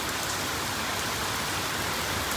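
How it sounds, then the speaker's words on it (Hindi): Heavy monsoon rain pours steadily outdoors as a dense, continuous hiss of drops hitting surfaces, loud and unbroken with no voices. "इतनी तेज हो रही है बारिश"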